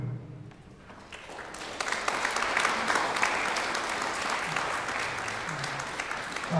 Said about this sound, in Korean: 오늘 나오실 때 힘찬 박수 보내주시고